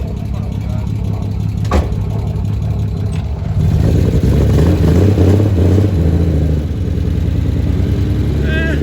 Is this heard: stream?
no